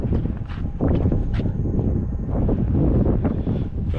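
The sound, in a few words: wind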